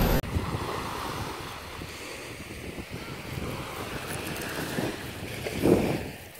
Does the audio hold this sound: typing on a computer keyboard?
no